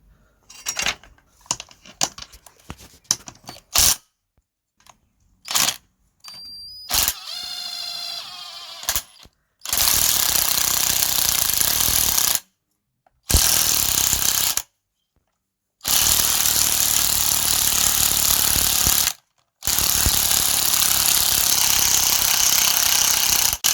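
Impact wrench with an 18mm socket working on the front suspension of a Honda Civic during a coil spring replacement: several short bursts, then long, loud, continuous rattling runs broken by brief silent gaps.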